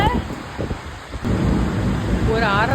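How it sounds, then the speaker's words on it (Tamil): Thunderstorm with rain, a broad steady wash of rainfall with low rumbling thunder throughout, loud and close, with faint voices briefly in the mix. "ஆனா இப்ப மழை."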